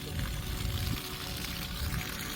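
A water pump on an African farm pushing stream water at high pressure onto a new orchard, heard as a steady, rough gushing and splashing rush that stays constant throughout, fairly faint.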